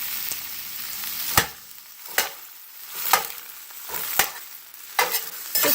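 Red onions sautéing over a medium flame while a spatula breaks them up, a steady sizzle punctuated by regular scraping strokes roughly once a second against the pan, close and fairly loud, no talking.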